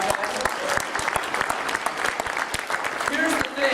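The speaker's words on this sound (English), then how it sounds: "So can we please give Drax a round of applause, guys?" Lively audience applause at a wedding industry trade show in Las Vegas, with crisp individual hand claps standing out of a continuous crowd clapping, fairly loud and close throughout.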